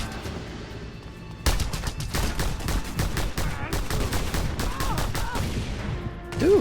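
Rapid bursts of light machine gun fire in a shooter video game, dense and loud from about 1.5 seconds on, with a faint voice briefly audible near the end.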